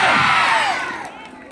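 A crowd of schoolchildren at a Republic Day school event lets out a loud, sustained cheer and shout that fades over about a second and a half, with no clear talk on top.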